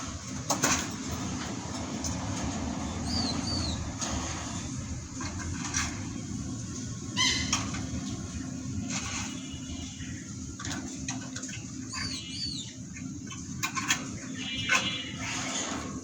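Pigeons with swollen eyes coo softly and rustle their wings in short bursts against a low, steady background hum, with no talking.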